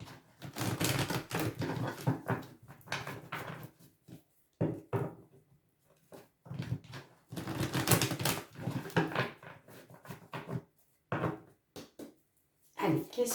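Oracle cards shuffled and drawn, quick close papery riffles and taps in irregular bursts with short pauses, under a French-speaking voice.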